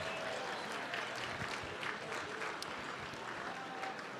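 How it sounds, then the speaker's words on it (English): Banquet audience applauding the Sheraton hotel staff at the 2018 Golden Goggle Awards show, a steady, somewhat distant wash of clapping throughout. "ladies and gentlemen, can we have a big round of applause for the entire Sheraton staff who put"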